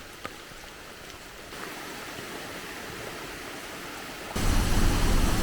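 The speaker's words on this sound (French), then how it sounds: "La cascade." A waterfall and a river swollen by heavy rain rush near a volcano in Costa Rica, a steady hiss of falling water that becomes much louder and closer near the end.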